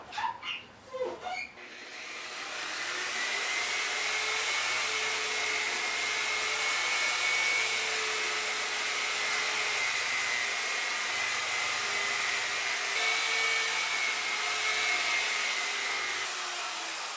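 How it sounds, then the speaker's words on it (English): A car paint polishing buffer whirs in a steady, loud electric drone after a few brief knocks at the start, running continuously at turned-down RPMs with slight dips in pitch. "turned the RPMs down on the buffer"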